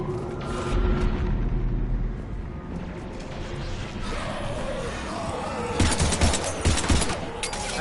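Heavy gunfire in Mass Effect 3 combat, a continuous rattling fusillade with bursts of automatic fire and impacts, loudest near the end, the din of battle throughout.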